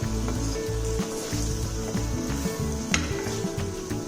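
Okra (vendaikai) frying in a pan gives a steady, continuous sizzle and hiss that fills the whole stretch, moderately loud and close, with no voices.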